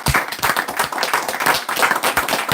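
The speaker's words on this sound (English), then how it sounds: "Hand claps, man." Hands clap in a quick, steady run of sharp claps, close and loud, with no speech.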